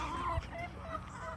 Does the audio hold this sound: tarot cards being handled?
no